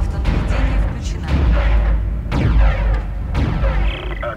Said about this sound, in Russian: Отличная стрельба, Айзек.